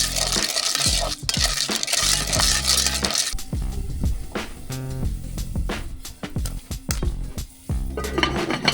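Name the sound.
mixing popcorn kernels with oil, salt and chili in pot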